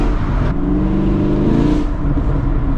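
A Dodge Charger Scat Pack's exhaust burbles with a loud, close, low rumbling drone that rises and swells briefly as the engine revs, with no talk over it.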